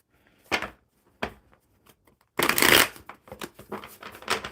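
A deck of playing cards being shuffled, with several separate riffles and a long, loud burst of rapid flicking in the middle, close up, no talking.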